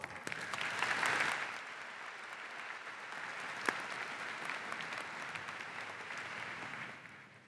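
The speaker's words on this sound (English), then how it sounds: "Let us give all graduates a big round of applause" Steady applause from a graduation commencement audience, clapping that swells early on and then holds at an even level until it fades at the end.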